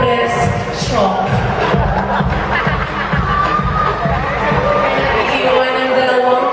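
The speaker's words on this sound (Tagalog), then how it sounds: "Sabay-sabay niyang palakpakan at sigawan si Binibining Empress Shock" A pageant audience at a Ms. Gay Poblacion 2013 show cheers and applauds, a loud, dense wash of shouting, clapping and crowd chatter that holds steady for the whole stretch.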